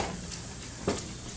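Vegetables for a cauliflower leek soup drop into a hot cast iron pan, giving a steady hiss with a brief stirring scrape near the end, close and moderately loud with no talking.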